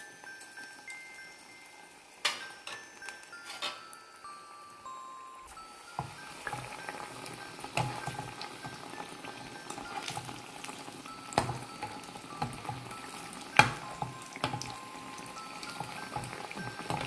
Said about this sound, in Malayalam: ഈ കടച്ചക്കയുടെ ഓരോ പീസ് ബാറ്ററിൽ മുക്കിയിട്ട് എണ്ണയിലേക്ക് ഇട്ട് കൊടുക്കാം.